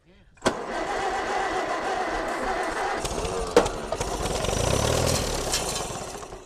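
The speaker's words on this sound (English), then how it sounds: "I'm gonna put this plug in and then we'll see if we can fire her up." Old Allis Chalmers tractor engine fed starter fluid, a sharp crank catching into a steady loud rumbling run with a second pop partway through, close by, with people talking over it.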